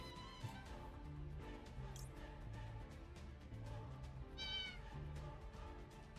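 Cats meowing in a hidden-object video game: a few short, clear meows at separate moments, rising high and bright, over a soft, steady musical background with no talk.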